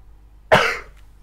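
One sharp cough rings out on its own in an otherwise quiet room and trails off quickly.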